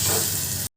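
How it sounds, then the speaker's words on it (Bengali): Ginger-garlic paste frying with onions in hot oil, a steady close sizzle and hiss throughout, briefly cut off near the end. "আদা রসুনটাকে ভালো করে এই পেঁয়াজের সাথে ভেজে নিতে হবে।"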